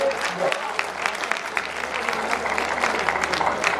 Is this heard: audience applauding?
yes